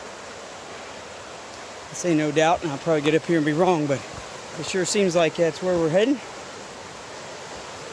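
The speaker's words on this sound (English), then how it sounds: "So the stream I've been following is right down over there" A mountain stream on the Appalachian Trail in Maine, descending toward the Kennebec River, gives a steady, even rushing hiss throughout, with someone talking over it for several seconds in the middle.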